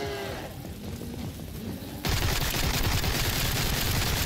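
Gunfire in the Sker Ritual video game, shooting at the Elizabeth boss. Softer shots come first, then a loud, dense burst of rapid automatic fire takes over halfway through and goes on without a pause.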